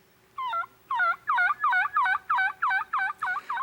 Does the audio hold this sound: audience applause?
no